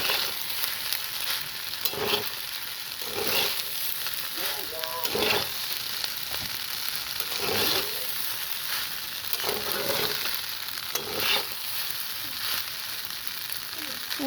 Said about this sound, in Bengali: একটু ভালো করে তেল দিয়ে ভেজে নিচ্ছি।